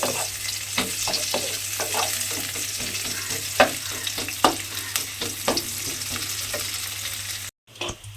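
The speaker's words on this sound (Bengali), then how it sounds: "সেই পেঁয়াজ কুচিটা আমি তেলের মধ্যে দিয়ে দিলাম এবারে পেঁয়াজটাকে আমায় একটু লাল করে ভেজে নিতে হবে" Chopped onion frying in oil in a pan for a rohu fish recipe, a steady sizzle with repeated scraping stir strokes, close and alone with no talk, briefly cutting out near the end.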